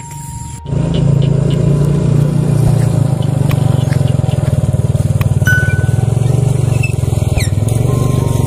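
A motorcycle engine runs close by with a steady low buzzing drone that starts abruptly and stays loud, with faint squeaks and clicks scattered over it.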